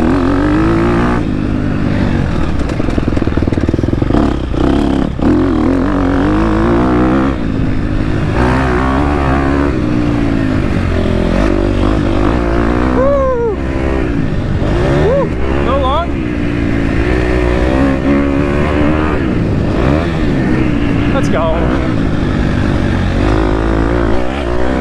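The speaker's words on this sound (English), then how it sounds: "Man, does that KTM engine just sound great." A 2023 KTM 250 SX-F dirt bike engine revs and rises in pitch up close, loud and continuous, with rough mechanical buzzing and occasional voices underneath.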